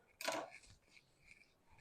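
Scissors snip a small piece of rickrack trim for a paper-bag craft, one crisp close cut followed by faint handling rustles on a quiet tabletop.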